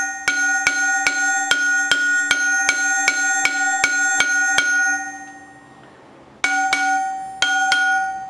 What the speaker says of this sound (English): I'm just taking the ball peen and hitting in the center section here